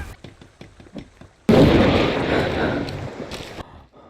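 A sudden loud video game explosion at about the midpoint, followed by a long rumbling decay, with rapid clicking before it.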